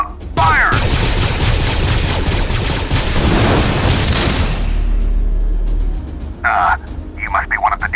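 Fortnite blaster gunfire, a loud dense volley of rapid shots and booms lasting several seconds, then fading into scattered bursts, with voices speaking at the start and end.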